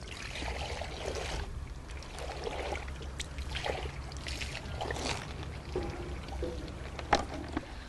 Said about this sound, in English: you're going to wash it off with fresh water